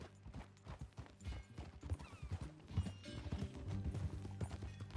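Horse hooves clip-clop in the video game Red Dead Redemption 2 in a soft, irregular walking rhythm. The hoofbeats stay faint and distant under a light layer of background mechanical noise.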